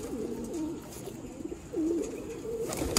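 Pigeons kept in a loft give a few low, rolling coos, close by but soft, with quiet background noise and no talk.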